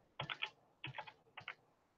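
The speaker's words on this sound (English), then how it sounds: "Shall I write refresh? I can. I've got the keyboard out, haven't I?" Bursts of typing on a computer keyboard, three short clusters of quick clicking keystrokes, close and fairly quiet, with no talking.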